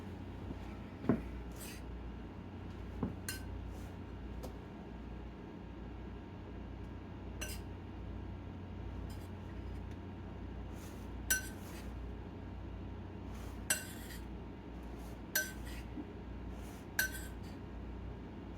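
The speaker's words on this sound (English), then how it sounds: "Let me get a spoon out and combine this." A tablespoon stirring cheese bread batter in a bowl in a home kitchen, producing soft, scattered clinks against the bowl at irregular intervals over a low steady hum, quiet and close.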